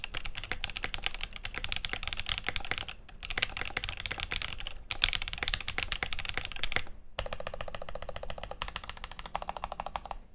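Mechanical keyboard fitted with silicone and force-break mods, PCB and PE foam removed, typed on steadily: dense, fast, even clacks up close with brief pauses, including a short burst of slower, sparser keystrokes near the end.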